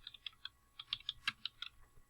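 Keys clatter on a computer keyboard in a quick, uneven run of about a dozen crisp, close taps, alone in a quiet room.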